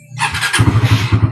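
A small motorcycle engine catches and settles into a close, loud, steady idle with a pulsing low rumble, starting after a short rising whir.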